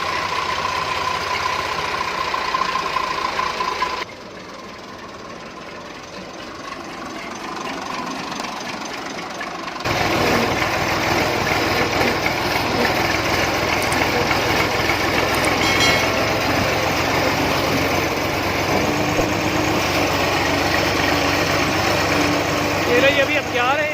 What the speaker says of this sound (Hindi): अभी हम ये ट्रैक्टर निकालते हैं और चलते हैं अपने फार्म हाउस की तरफ।